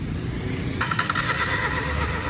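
A Suzuki Every van engine in a repair shop cranks with a rapid, rhythmic starter whir that begins partway through and churns on without catching, over steady workshop background noise.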